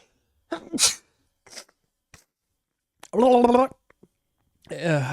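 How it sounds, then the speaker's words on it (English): A person sneezes near the microphone during an album listening session, a sharp burst, followed by brief scattered noises and short stretches of speech. "I'll pause it if I need to sneeze again"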